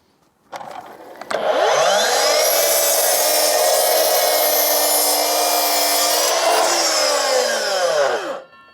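A Hilti mitre saw spins up and cuts through timber offcuts, a loud, sustained whining cut lasting several seconds before the motor winds down, heard alone with no talking.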